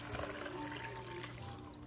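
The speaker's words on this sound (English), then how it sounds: "transfer it into my pot, add some water to it to cover" Water pours steadily into a cooking pot of washed beans, a continuous splashing rush that stays even and fairly close for the whole stretch.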